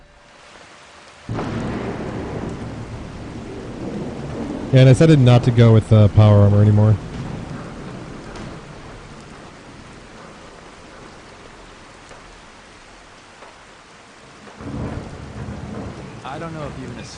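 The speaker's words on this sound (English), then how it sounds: "Alright, we got a storm brewing." Steady rain with rolling thunder during a storm in Fallout 4, a constant hiss of rainfall under a voice, with the voice loudest in the middle stretch and the storm continuing underneath.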